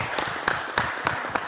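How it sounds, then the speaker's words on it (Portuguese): An audience applauds for a presenter, Sandra Pereira Sutil, with a few loud, distinct claps standing out at a regular rhythm over a softer bed of clapping, close and brief. "Vamos aplaudir a nossa querida Sandra Pereira Sutil!"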